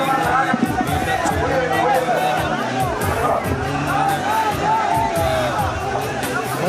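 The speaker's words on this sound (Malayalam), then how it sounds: "വലിയ ആൾക്കൂട്ടം" A large crowd gathered for VS Achuthanandan's funeral procession in Kerala makes a dense, loud hubbub of overlapping voices and shuffling movement, with scattered calls and no single clear speaker.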